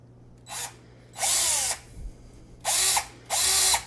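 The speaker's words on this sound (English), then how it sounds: "let's keep drilling" A power drill bores into an iPhone 7 to add a headphone jack, four loud whining bursts of a second or less, separated by short quiet pauses with a low background hum.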